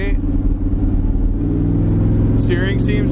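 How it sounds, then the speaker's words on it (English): Engine rumble of a dark green 1970 Chevrolet Camaro cruising steadily down the road, a continuous low drone heard from inside the car with faint speech in the background. "The car goes nice down the road,"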